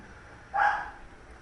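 A single dog bark rings out at mid-distance, a short burst rising above a steady low background hum, with no talk over it.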